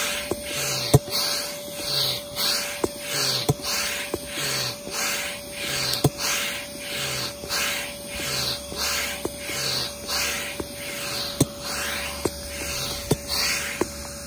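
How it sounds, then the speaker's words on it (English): An electric pump set to deflate draws air out of an Advanced Elements AirVolution inflatable kayak, a steady whirring hum with rhythmic hissing pulses through the whole stretch, close and moderately loud, with no talk. "my electric one's on deflate. So I'm just gonna hit it. And it just sucks the air out."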